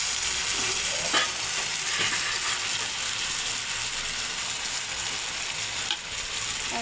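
Rohu fish frying in a pan after a little water is added, giving a steady, loud hiss of sizzling oil and steam with occasional stirring clicks and scrapes.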